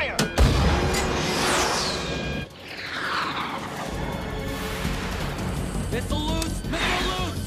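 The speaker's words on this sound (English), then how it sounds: "Missile loose! Missile loose!" A VX-armed rocket launches from Alcatraz in a dense, loud roaring blast with crashing booms, a brief dip midway before the roar surges back, sustained rumbling and whooshing to the end.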